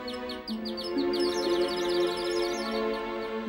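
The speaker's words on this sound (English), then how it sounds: "Inside the mechanism, a series of cogs, ropes, and pulleys made the bird sing when the wheel was turned" Mechanical singing bird automaton of the kind built by Heron, driven by cogs, ropes and pulleys; a rapid run of bright, repeated chirps and twitters, steady and fairly close, over a sustained tonal hum.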